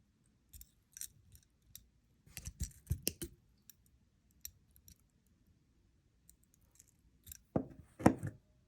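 Wire cutters snip excess gold jewelry wire while making pearl earrings: a few faint isolated clicks early on, then a louder cluster of sharp metallic snips and clicks near the end, close and alone.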